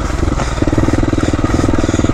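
A dual sport motorcycle rides a rough trail on Redonda Ridge, its engine chugging close and loud with a pulsing, uneven throttle and no speech.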